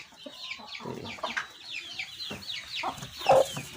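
A Java rooster clucking close by, a run of short sharp clucks in an uneven rhythm, ending in a louder squawk, with no voices.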